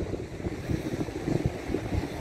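Sea surf rolls onto a beach with foamy waves, steady and fairly distant, under a constant wind rush across the microphone, with no talking.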